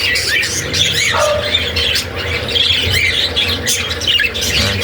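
A white face gray wing parakeet breeder with a broken leg squawks and chirps repeatedly and loudly up close, with steady low background hum.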